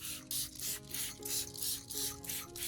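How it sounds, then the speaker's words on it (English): A spray bottle misting an orchid plant, giving about six evenly spaced hissing bursts in a steady rhythm, close and soft, over quiet background music. "I'll spray evenly from base to tip, focusing on the leaf undersides"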